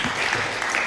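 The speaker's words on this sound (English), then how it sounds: "Let's give them a round of applause" Applause from the audience at a women's economic opportunity program closing event in East Africa, a dense, steady wash of many hands clapping, loud and close, with no gaps through the whole short burst.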